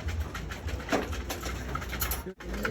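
Soft, low coos of racing pigeons murmur continuously in the background at a loft, layered with fluttery rustling and steady ambient noise.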